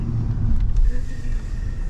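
A 2022 Cadillac Escalade ESV accelerating, heard from inside as a deep, steady engine rumble with road noise over two seconds.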